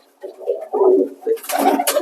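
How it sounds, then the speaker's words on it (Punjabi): Pigeons coo nearby in a few soft, throaty bursts, with rustling and a brief flutter toward the end. "ਸ਼ਾਨਦਾਰ ਕਬੂਤਰ"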